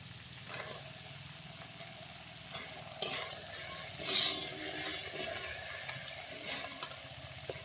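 Chickpeas frying in a pan with soy sauce and a little sugar, a steady soft sizzle under repeated scraping and knocking as they are stirred, with a few louder clatters midway.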